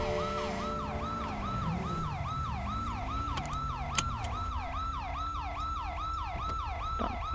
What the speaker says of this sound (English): Can you cut the goddamn siren?